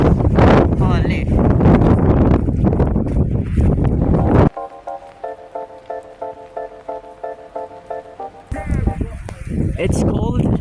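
Strong gusts of wind on a cold, wet day on Mount Wilson roar against the microphone, drop away to a quieter stretch with a faint tonal hum, then return buffeting loudly.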